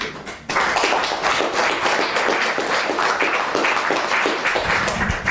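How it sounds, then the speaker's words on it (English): Applause from an audience at a Theosophy Society discussion in Chester, dense steady clapping that starts abruptly after a brief pause and holds loud and continuous throughout. "a round of applause for Eric"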